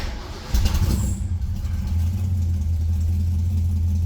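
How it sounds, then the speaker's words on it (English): A beater V8 in a classic car with a 3D-printed carburetor part settles into a low, steady idle after a brief revving burst, rumbling evenly and close by. "Well, it's idling."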